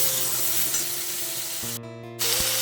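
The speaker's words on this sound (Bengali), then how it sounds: "এবার আমি দিয়ে দেবো সর্ষে বাটা। সর্ষে আর লঙ্কা যেটা বেটে রেখেছিলাম সেটা আমি দিয়ে দেবো।" Mustard and chilli paste hitting a hot frying pan: a loud, continuous sizzle fills the clip, with a brief sharp burst near the end as the paste lands and steady tones underneath.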